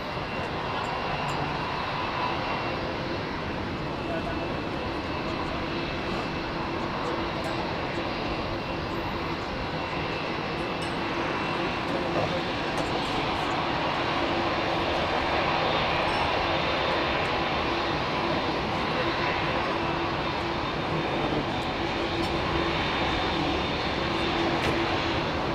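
Airbus A380 jets departing Heathrow Airport in the evening, a loud, steady engine roar that holds evenly from start to finish with no voices over it.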